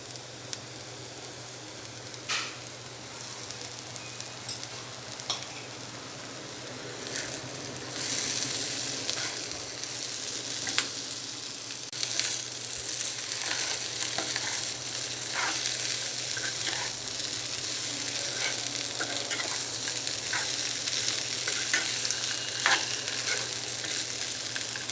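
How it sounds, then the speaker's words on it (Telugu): Boiled potatoes and tamarind leaves fry in a pan with a steady, close sizzle, and spatula scrapes and stirring strokes recur throughout. "చింత చిగురు ఫ్రై అయిన తర్వాత ఉడికించిన ఆలుగడ్డ వేసుకోవాలి."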